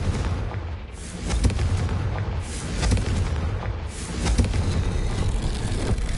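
A Confringo fire spell bursts in the Hogwarts Legacy video game, loud rumbling booms swelling and fading over a continuous roaring background, close and heavy throughout.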